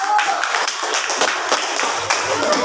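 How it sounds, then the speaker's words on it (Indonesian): A class claps for a student group during a lesson, giving a brisk, busy patter of many hands at close range with faint voices underneath. "Tepuk tangan untuk kelompok 1."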